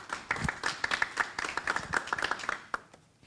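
A conference audience applauds a speaker with a brief burst of quick, overlapping hand claps that fades out at the end.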